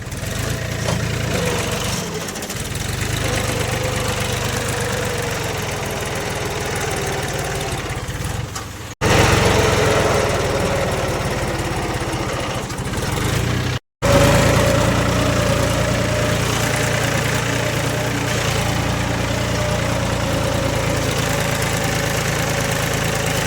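A farm tractor's diesel engine running at a steady idle, close and loud, its even throbbing drone broken only by two brief dropouts.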